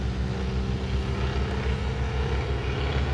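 A Black Baron triplane's propeller engine drones steadily in flight shortly after takeoff, a continuous, fairly loud buzzing hum with no voices over it.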